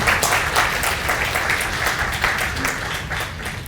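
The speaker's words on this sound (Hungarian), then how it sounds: "Tapsoljuk meg, mert megérdemli." Seminar audience applauding, a dense sustained round of clapping from many hands that stays loud throughout.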